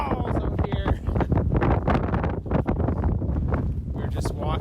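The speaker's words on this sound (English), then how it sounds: "It is windy as balls out here." Strong wind batters the microphone in loud, rough gusts in Iceland, a constant low roar with flapping bursts, and a voice can be heard underneath.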